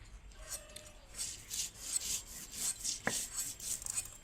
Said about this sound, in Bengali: আমি পটলটা কেটে নিলাম।